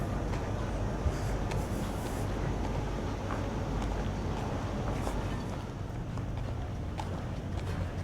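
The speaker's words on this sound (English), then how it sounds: "Here's an excursion boat just coming around the corner." An excursion boat rounds the corner at Port de Soller harbour in Mallorca, giving a steady low engine rumble with water and wind wash that holds constant throughout, close and fairly loud, with no talk.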